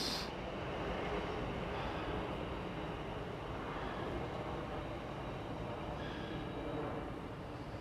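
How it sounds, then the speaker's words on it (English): A fast train rushes through Vauxhall Station in London at night, a broad steady roar of wheels and air, fairly distant and constant throughout, no talk. "You can see the train moving fast."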